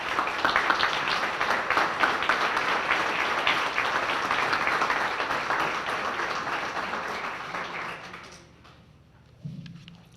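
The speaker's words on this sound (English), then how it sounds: "we can honor you together with a round of applause" A banquet-hall audience at a chamber of commerce dinner applauds past recipients, a dense, sustained round of clapping that fades out after about eight seconds, followed by a brief thump.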